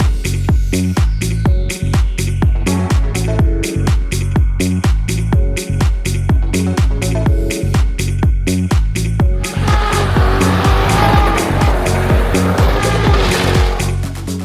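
A BMW spinning at a drifting event, tires squealing in long continuous bursts over a hard-revving engine, loud and close, with the noise swelling rougher and denser toward the end.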